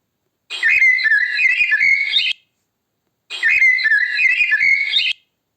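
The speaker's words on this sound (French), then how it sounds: "Perruche" A parakeet gives two bursts of bright, trilling chirps, each about two seconds long, with a short silence between them; the calls are close and clear and there is no other sound.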